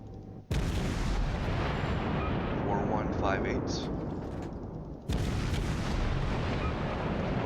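Naval battleship artillery in World of Warships, with heavy booming salvos at about half a second and five seconds, each followed by a long, rumbling, sustained roar, with faint radio-like chatter in between.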